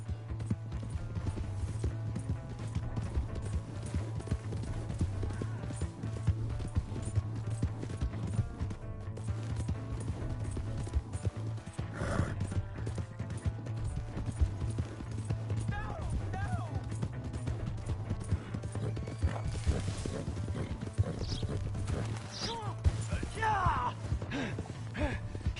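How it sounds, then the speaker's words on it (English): Hooves clip-clop from a horse being ridden in a PS4 video game, a steady rhythmic pounding over a constant low hum, with shouting and other game sounds scattered throughout. "Hey, that's my horse!"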